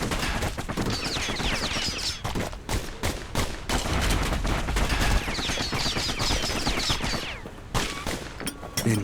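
Two slinger pistols in the Bastion video game fire in dense, rapid volleys of sharp shots that continue almost without a break, loud and up close.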